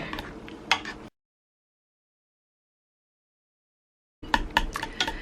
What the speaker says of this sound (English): And I just mash and mash and mash and mash.